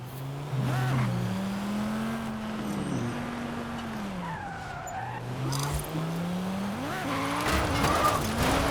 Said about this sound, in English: Yeah, there's a little bit of a drift.